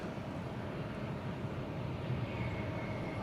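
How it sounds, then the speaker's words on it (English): A Delta Airbus A320 arriving from Montreal rolls down the runway at Atlanta airport after landing and slows, its engines making a steady, broad roar. The sound stays even and moderately distant throughout. "Next in, Delta 2643 from Montreal, an Airbus A320."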